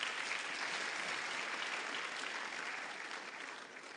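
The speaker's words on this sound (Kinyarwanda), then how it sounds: "Katwongere dukomere Imana amashyi." A church congregation applauds, with dense, steady clapping from a large crowd that holds for several seconds and then slowly thins.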